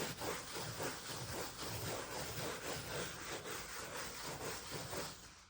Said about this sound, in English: You take the brush and do that. What I'm doing is I'm distributing the wax cleaner